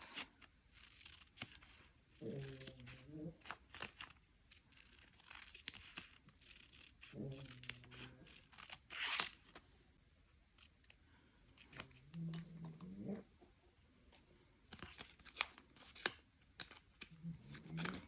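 Scissors cutting a sheet from a Halloween Haunted House diamond art kit: quiet, intermittent snips and crisp paper-like rustles at close range, with no talk.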